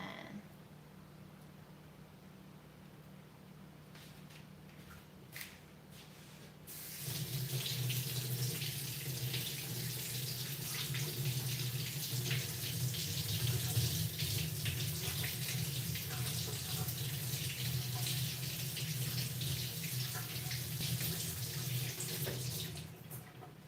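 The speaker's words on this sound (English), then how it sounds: "I rinse it because there are little fragments of the shell" A peeled egg is rinsed under a tap: after a quiet start with a few small clicks, the water turns on and runs in a steady, loud splashing stream close by until the end.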